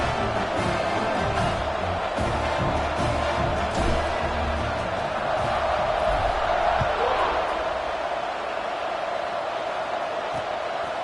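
Stadium crowd noise in a college football video game, Nebraska against an FCS opponent, forms a continuous roaring wash of cheering under a commentator's voice, with no distinct peaks.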